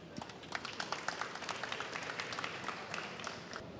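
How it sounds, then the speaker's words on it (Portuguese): Faint applause from an auditorium audience at a Brazilian mechanics' congress panel on tires, a scattered, moderate clapping that stays steady throughout the clip. "As palmas para ele."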